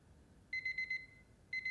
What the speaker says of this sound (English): When this timer goes off,